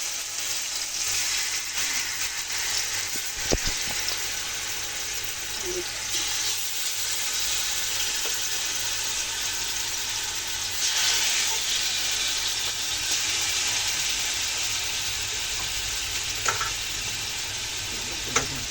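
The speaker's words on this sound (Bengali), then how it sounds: "হালকা করে একটু ভেজে নেব" Chicken lightly frying in a pan for chicken rezala, a steady sizzle and hiss running throughout with occasional stirring clicks, no talk.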